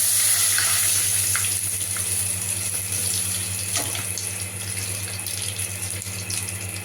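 Panch phoron and dried red chillies sizzle in hot oil in a wok, giving a steady close crackling hiss that slowly eases over several seconds.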